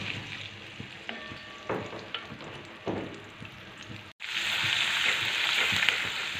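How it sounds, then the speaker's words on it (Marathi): Garlic fries in hot oil to a red colour, crackling and popping at first, then a sudden cut to a louder, fuller, steady sizzle, all close and without talk. "लसूण आपला छान लाल रंगावर परतून घ्यायचं आहे तेलामध्ये मस्त"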